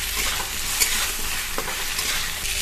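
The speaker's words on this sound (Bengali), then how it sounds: "মাঝখানে মশলাটা একটু নেড়ে ফেড়ে নিয়েছি, সব কিছুর সাথে মিশিয়ে নেব।" Ground spices with Kashmiri chilli powder and cumin being stirred and frying in a little oil in a pan, a steady close sizzle with soft scraping of the spoon.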